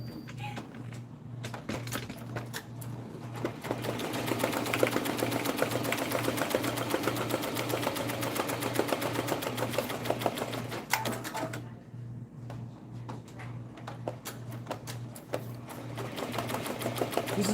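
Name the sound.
embroidery machine stitching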